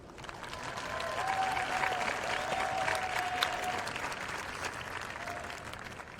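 Sustained applause from an audience at a new student convocation as the student speaker is welcomed, a dense steady clatter of many hands with a few faint cheers, fading slightly toward the end.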